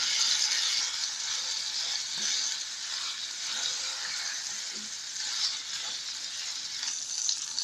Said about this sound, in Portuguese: vou colocar a linguiça calabresa, e vou dar uma leve fritadinha nas duas